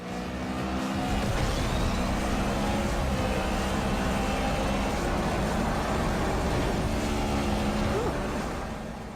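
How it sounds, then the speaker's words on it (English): Need for Speed racing game plays on an iPad, a continuous loud engine roar with shifting revs and racing effects filling the whole stretch, no talk over it. "So that's Need for Speed running on the iPad"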